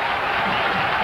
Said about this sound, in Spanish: A esa altura merecía los aplausos